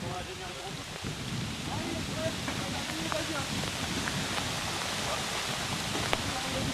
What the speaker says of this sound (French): Il pleut plein pot.